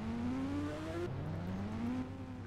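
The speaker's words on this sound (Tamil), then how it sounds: "வாங்க நம்ம இப்போ கவாசாகியில் போவோம்" Kawasaki Ninja H2R motorcycle in a video game revving up through the gears, a steady engine whine rising in pitch, dropping at a shift, then climbing again, loud and continuous with no talking.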